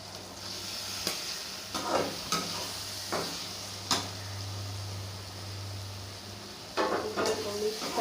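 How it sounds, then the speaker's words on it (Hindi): Chicken sizzles in a pan with tomato, onion and masala for bhindi chicken. A spoon scrapes and stirs it in several separate strokes over a steady frying hiss and a low hum. "चिकन को मिक्स कर रहे हैं।"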